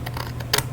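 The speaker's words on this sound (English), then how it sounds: "I'm going to get my scissors, and I'm going to cut this line" Scissors snipping through paper along a drawn line, a few short crisp cuts with the clearest snip near the end, close up and fairly quiet.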